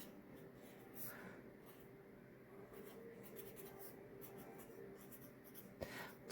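A definition is handwritten with a pen on paper, a steady close scratching that runs continuously over quiet room noise.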